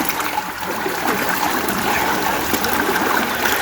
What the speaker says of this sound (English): the roof's draining directly onto my head